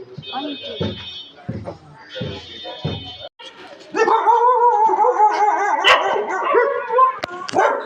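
Dogs bark in a rapid series of yips, then break into a loud, sustained howling chorus, close by, with people talking over them during a rickshaw ride to school.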